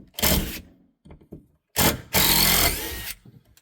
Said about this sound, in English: I'm going to take one of my walls, which I'm unscrewing right now.